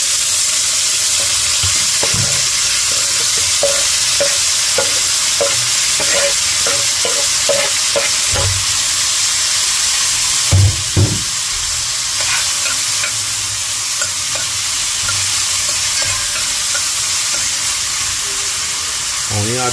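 Smoked herring frying on a fry top, a loud continuous sizzle and hiss close by, with repeated scraping and stirring strokes through the middle and a few heavier clanks around halfway.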